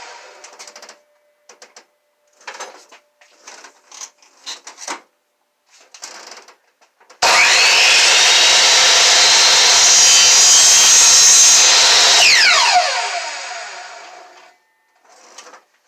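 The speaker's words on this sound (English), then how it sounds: "I'll drill a hole in, put the scroll saw in, and hopefully cut this out" Short scraping bursts give way to a loud, steady mechanical buzz of a scroll saw cutting for about five seconds, then winding down.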